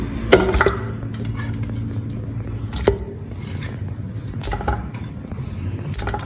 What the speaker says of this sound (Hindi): मटन को आपने अच्छी तरह से धो लेना है